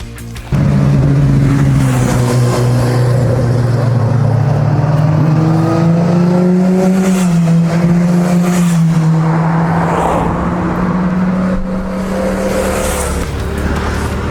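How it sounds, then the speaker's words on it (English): A motorbike engine drones loudly nearby, its pitch rising and falling as it passes and revs, then fades into continuing traffic. "Seems to be a very popular place with the motorbikes"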